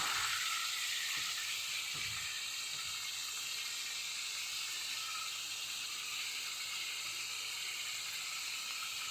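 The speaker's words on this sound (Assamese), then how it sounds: "এতিয়া পনীৰখিনি অলপ ভাজি ল'ম।" Cubes of paneer fry in oil in a kadai with a little salt, a steady soft sizzle and hiss close by, with a few light stirring knocks near the start and no talk.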